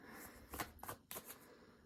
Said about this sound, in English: I am going to be shuffling the Divine Energy Oracle first out